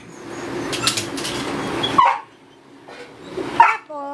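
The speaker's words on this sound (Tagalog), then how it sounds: "maingay yung mga aso ko" Pet dogs barking and yipping in a close flurry, then pausing before a couple more sharp barks and a soft whimper, with no talking.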